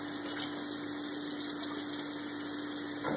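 Water drains steadily out of the acidic side of a homemade water ionizer, a continuous close rushing flow with an even hum underneath and no voices.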